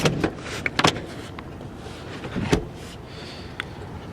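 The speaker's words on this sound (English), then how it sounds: "Pull this lever and the whole seat kind of moves forward." Seat in a 2016 Chevrolet Traverse 2LT sliding forward after its release lever is pulled, giving a couple of close mechanical clunks and a brief rattle, then quiet cabin with a later faint click.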